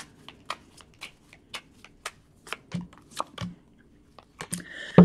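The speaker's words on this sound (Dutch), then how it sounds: "De kaarten schudden om te kijken wat deze week voor jou gaat brengen." Tarot cards being shuffled by hand: crisp, irregular slaps and flicks, close and fairly quiet, ending with a louder rustling riffle, with no talking.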